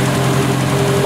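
An Opel GT engine idling roughly on its first start in 30 years, a loud close low rumble with uneven pulsing throughout.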